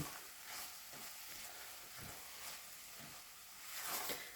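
Apple pie egg roll filling cooking in a skillet over medium-high heat gives a steady, quiet sizzle with soft periodic stirring strokes, heard alone.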